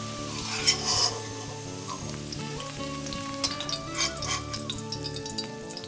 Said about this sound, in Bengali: ঢাকা দিয়ে দিয়ে আলুগুলো আচ্ছেদ্য হওয়া পর্যন্ত ভাজতে হবে,